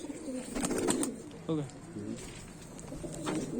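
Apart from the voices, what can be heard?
kaldume and kalpare pigeons cooing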